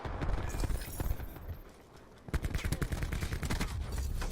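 Gunfire in Call of Duty Black Ops 4 multiplayer, rapid bursts of automatic shots in quick succession, loud and close, pausing briefly before another sustained volley.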